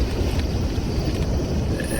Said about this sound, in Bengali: এত জোরে ঝড়!